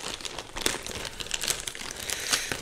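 Someone tears open a package sealed with layers of tape, giving close, irregular crinkling and ripping sounds with no talking.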